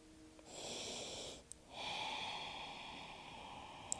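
Two long, steady breaths during a yoga stretch, close and fairly loud, with a brief pause between them and no talking.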